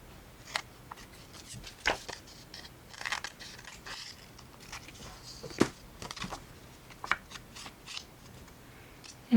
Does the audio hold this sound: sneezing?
no